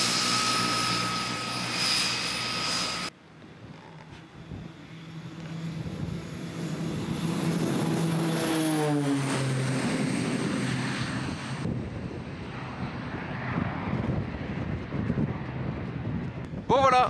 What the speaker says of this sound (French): J'arrive pile au bon moment, un avion va décoller.